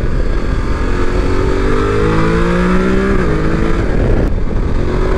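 A 2024 Voge 900 DSX adventure motorcycle is ridden, its engine a loud, continuous close drone that climbs in pitch as it accelerates, mixed with wind rush.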